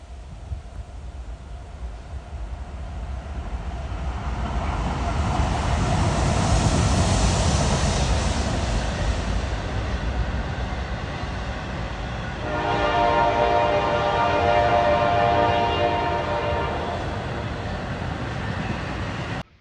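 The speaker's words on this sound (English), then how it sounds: "I hear a train coming too, so we might get to see that across the bridge." A train rumbles closer near a river bridge, growing louder, then sounds a long, sustained horn blast over the steady roar of the passing cars.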